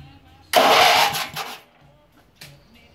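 An RC lawn mower's engine starter cranks in one loud, brief burst of about a second. It is followed by a short weaker sputter and a later faint knock, all close by.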